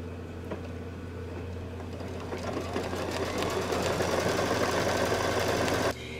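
Machine embroidery stitching a tack-down line through background fabric for a Santa-themed table runner: steady, rapid mechanical whirring and needle pulsing close by, building slightly louder before stopping abruptly near the end.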